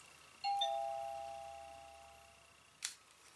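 Wireless door sensor chime kit receiver sounding a single electronic chime tone that rings and slowly fades, fairly quiet in a small room, followed by a brief click, no talk.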